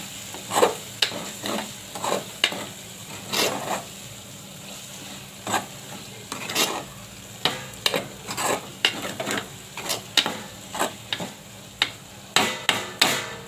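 Eggplant pieces cooking in a pan, a soft continuous sizzle beneath frequent sharp clinks and scrapes of a utensil stirring against the pan, close and fairly quiet.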